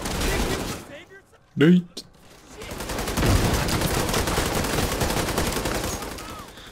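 Gunfire rattles through a firefight in The Division 2, a dense continuous spray of shots carrying on for several seconds after a short lull and a brief spoken word.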